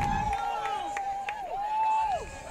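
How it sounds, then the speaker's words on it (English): Women's soccer team cheering from the sidelines at a men's college soccer match, short shouts and whistles over a murmur of crowd noise. "As you hear our women's soccer team cheering on the men's soccer team here."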